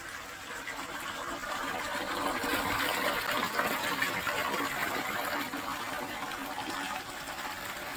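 Water gushes steadily into a concrete storage tank beside a mango orchard, a continuous broadband rush that holds at an even, fairly loud level for the whole stretch with no voices.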